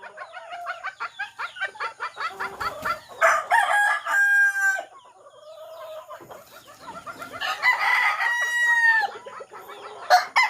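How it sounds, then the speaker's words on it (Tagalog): Bulik chickens: hens clucking in rapid, busy bursts while roosters crow loudly nearby, two long crows rising above the steady chatter of the flock. "Ito yung mga inahin ko ng mga bulik."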